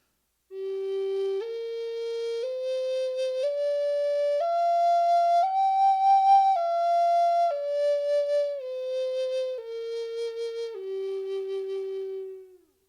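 A Native American flute plays a clean, breathy scale of sustained notes, stepping up one at a time to a peak and then back down, each tone held about a second, solo and close.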